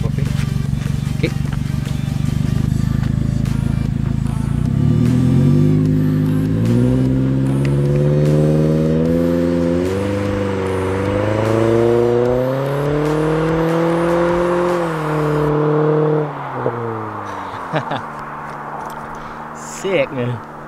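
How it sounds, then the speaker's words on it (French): Toyota Corolla fitted with a Borla exhaust revving up from idle, the engine note climbing and holding through several throttle blips before settling back down, loud and close, with people talking over it. "Fait quand même un beau petit son pour une petite Corolla"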